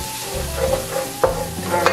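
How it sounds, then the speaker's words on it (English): A spoon stirs dirty rice with curry and beer in a pot, giving soft scraping and clinking strokes a few times over a quiet low sizzle, close up, with no talk. "I'm gonna get this all stirred up here."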